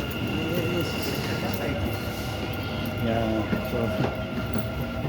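Metro train rumbling steadily from inside the carriage, with a constant low drone and faint track noise as someone talks over it in the foreground.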